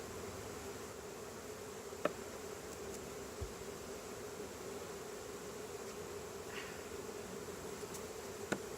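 Angry honey bees buzz around an opened hive during an inspection, a steady droning hum filling the scene with a few brief clicks and knocks of hive handling.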